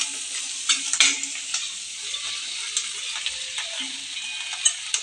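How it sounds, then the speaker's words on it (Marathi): Sizzling fry in a pan while making poha, with frequent light spoon taps and scrapes against the pan over a constant close hiss. "चांगले फ्राय करून घ्या."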